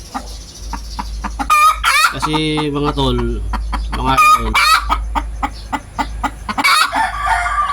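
Native chickens cluck close by and a rooster crows, while someone talks over the birds.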